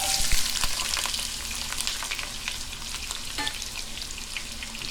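Chopped carrots and small cumin seeds frying in a pan for a Kerala vegetable curry: a dense, continuous sizzle and crackle close by, with occasional stirring scrapes and no talk.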